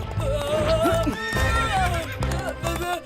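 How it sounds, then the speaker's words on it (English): A cartoon horse neighs and whinnies loudly with rising and falling cries over steady clip-clop hoofbeats, filling the whole short stretch in an animated children's show. "Need to find a way to calm the horse down."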